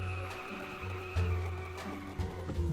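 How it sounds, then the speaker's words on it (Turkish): In the car dealership video game Car For Sale, a car engine hums and shifts pitch with brief tire-squeal-like tones, heard up close at moderate volume without talk. "Bu arada arabaların sesi muazzam ötesi olmuş ya."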